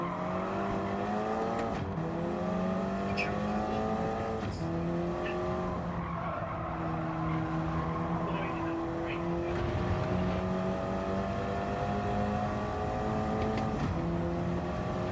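Race car in a racing video game roars through corners with repeated tire squeals and skids under hard braking, engine tones rising and falling against a steady loud mix of cars.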